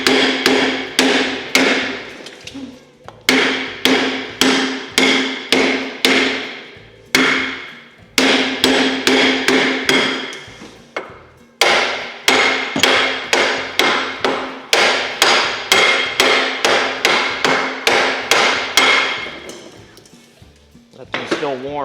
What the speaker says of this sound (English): All right, let me get a hammer. It's hammer time.